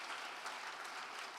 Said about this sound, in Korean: 우리 시간 한번 이분들을 위해서 한번 격려의 감사의 박수를 한번 했습니다